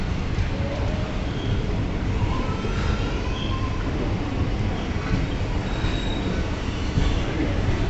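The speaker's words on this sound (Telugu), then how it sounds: "Dadar to Kazipet leaving railway station." A Dadar–Kazipet passenger train pulls out of Karimnagar railway station with a loud, continuous rumble of rolling wagons and faint wheel squeals, close by and heard alone.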